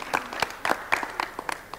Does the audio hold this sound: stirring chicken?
no